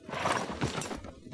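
A horse's hooves clip-clop in uneven, quick steps during show jumping at night, close and fairly loud, with a brief whinny mixed in and no talk.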